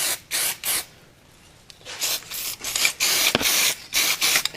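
Short bursts from an aerosol paint can spray a light coat onto a metal part, each hiss stopping and starting in a loose rhythm, close and fairly loud.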